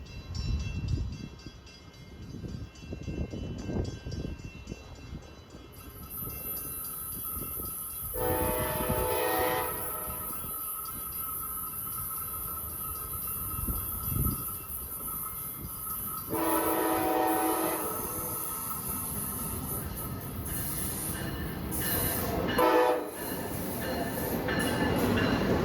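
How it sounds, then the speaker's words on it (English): Amtrak train led by a Siemens ACS-64 electric locomotive arriving at a low-level platform in New London, with a steady rail rumble and two loud sustained horn blasts, close by. "Here comes our train. Our train this afternoon is led by Siemens ACS 64 number"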